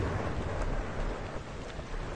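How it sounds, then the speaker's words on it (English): Thunder in the video game Kingdoms, a low rumbling roll with rain-like wash, loud and continuous. "that's some loud thundering"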